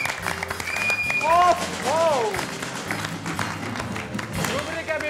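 A studio audience on a Bhojpuri TV game show claps loudly and continuously, with music and brief exclamations from a voice mixed over the applause.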